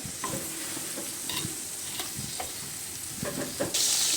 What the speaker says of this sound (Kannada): ಒಂದು ಪಾತ್ರೆಗೆ ಬೆಣ್ಣೆ ಹಾಕೋತೀನಿ